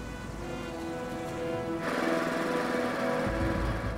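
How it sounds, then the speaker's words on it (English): A deep bore drill extracting soil samples runs with a steady mechanical whine and hum that grows louder and rougher midway, a heavy low rumble kicking in toward the end. "This is a deep bore drill."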